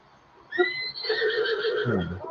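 A horse in The Legend of Zelda: Breath of the Wild gives a loud, clear whinny lasting nearly two seconds, rising sharply and then falling into a lower, shaky tail, with nothing else heard.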